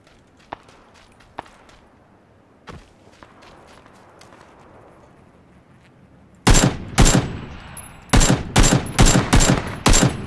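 Gunfire in the battle royale game PUBG Battlegrounds: scattered faint footsteps and single shots at first, then loud close bursts of rapid automatic fire in several volleys.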